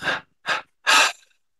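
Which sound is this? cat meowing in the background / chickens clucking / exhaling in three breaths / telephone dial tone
exhaling in three breaths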